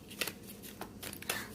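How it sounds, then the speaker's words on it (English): Tarot cards are shuffled by hand in a quick flurry of soft riffling, with a few brisk, close, quiet bursts. "we're gonna go ahead and shuffle a little bit"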